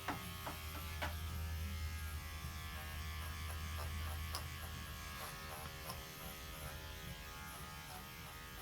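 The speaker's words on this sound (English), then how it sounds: "You may have to go up or down with your clippers, just depends on what you're doing." Electric clippers grooming a Border Collie's coat give a steady, close buzz that holds throughout, with faint ticks over the motor hum.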